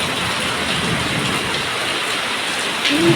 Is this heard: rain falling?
yes